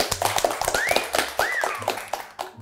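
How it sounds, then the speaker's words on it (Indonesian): Short rapid clapping, a quick series of close, sharp claps over rising electronic swoosh effects and background music. "Tepuk tangan dong buat pinusi.com."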